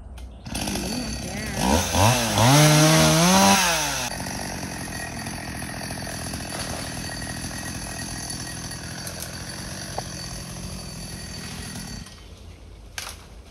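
A chainsaw revs loudly for a few seconds, its pitch rising and falling as it bites into tree branches in a fruit orchard, then idles steadily before cutting off near the end.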